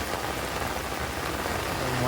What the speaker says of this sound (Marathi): पाऊस आला तर लगेच सुरुवात झाली